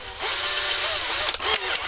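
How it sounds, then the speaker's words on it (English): A handheld power drill bores 2 mm pilot holes into a small piece of wood, giving a loud, close, steady whine for over a second before it cuts out and sputters to a stop. "I'm going to go 2 mil as for pilot holes if that'll fit in my drill."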